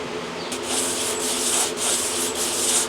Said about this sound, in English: I'm gonna sand it down to 320